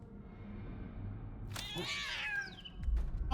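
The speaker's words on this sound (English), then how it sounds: "Oh, kitty." A cat in Death Stranding 2 lets out a single drawn-out, rising and falling meow, clear and close against a quiet low background rumble.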